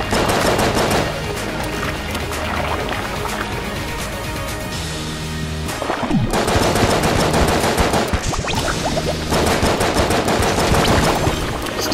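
Rapid gunfire fills a session of the video game Enter the Gungeon, dense bursts of shots that ring and patter as bullets bounce, pausing briefly midway before resuming in heavy, continuous volleys.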